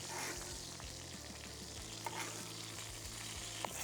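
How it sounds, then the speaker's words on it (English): A steak sears in a pan while being basted, a close, continuous frying sizzle with soft spoon taps and a couple of small clicks, heard alone without talking. "I'm just going to baste it a little bit more on this side."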